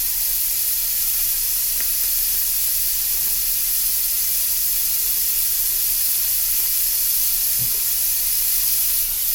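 Scallops searing in a hot pan give off a steady, even sizzle and hiss that runs unbroken and fairly loud, with no voices over it.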